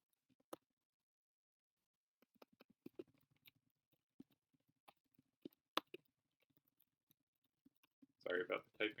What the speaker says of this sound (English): Sorry about the typing noise.